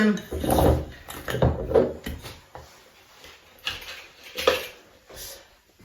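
A whisk finishes mixing thickening mookie batter in a bowl, a series of close, uneven scraping and knocking clatters against the sides.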